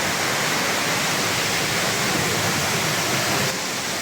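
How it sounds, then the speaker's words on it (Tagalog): Floodwater rushes loudly and continuously during Typhoon Kristine in Sta. Rosa, Laguna, making a dense, steady roar with no pauses. "Lakas ng tubig."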